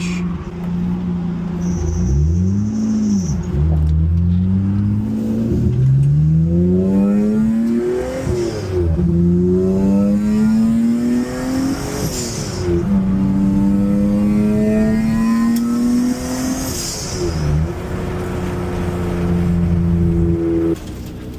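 A turbocharged V6-swapped Honda Civic at a drag strip, running a little rich while cold, revs hard through repeated rising pulls, the engine note climbing, dropping at shifts and climbing again, loud and continuous over about twenty seconds.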